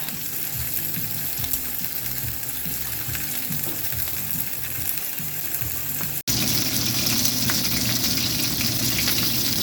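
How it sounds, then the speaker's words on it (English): Beef brisket sizzles steadily in hot olive oil in a pan, a dense continuous fry with crackling, close and loud, growing fuller after a brief break. "Really sizzling here now, almost ready to turn it over."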